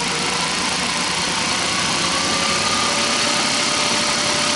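A 1969 Triumph Daytona T100R motorcycle engine on electronic ignition test, revved up and held at a steady high drone, loud and close, with a faint rising whine throughout.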